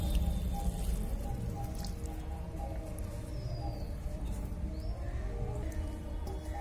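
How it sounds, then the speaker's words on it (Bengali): Water is poured into a pumpkin and prawn curry cooking on a clay stove, a steady bubbling and sizzling hiss up close with no talk. "এবার আমরা জল দিয়ে দেব।"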